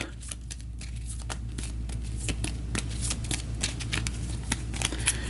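Playing cards for the Star Realms deck-building game riffled and shuffled repeatedly, a rapid flurry of crisp flapping clicks close by, with no talking.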